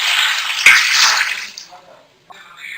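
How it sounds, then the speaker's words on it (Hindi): Yakhni stock is poured into a pot of fried chicken for pulao, a close, loud hissing splash that fades after about a second and a half, followed by a brief knock. "फ्राई हो चुका है, इसके अंदर मैं यखनी डाल दूंगी।"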